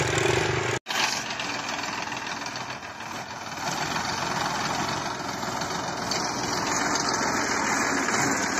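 A New Holland 3032 35 hp tractor engine idles in a steady, loud, close diesel rumble. There is one momentary dropout near the start, and no one talks.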